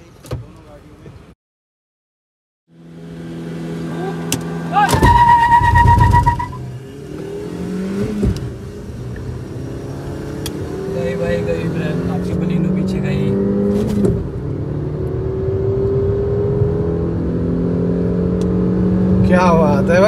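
A Maruti Baleno and a Brezza launch in a drag race with traction control and AC on. Engine drone rises into loud, sustained acceleration after a brief quiet start, with voices talking over it.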